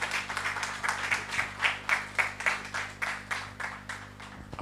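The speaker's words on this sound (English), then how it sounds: "Shall we welcome the chairman with a round of applause?" An audience at a radiation protection institute public engagement event claps to welcome the chairman, a moderate round of applause with a pulsing rhythm that fades away after a few seconds.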